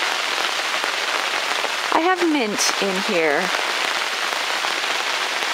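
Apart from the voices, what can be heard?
rain falling outside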